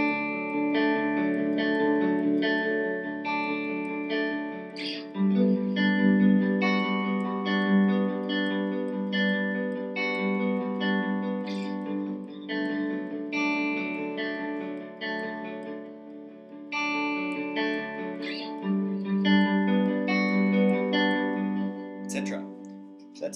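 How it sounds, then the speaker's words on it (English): Stratocaster middle pickup playing a picked pattern through a Nova delay set to a dotted-quaver rhythm, clear melodic notes with repeating echoes trailing behind, steady and close without talk. "My middle pickup on my Strat sounds like this:"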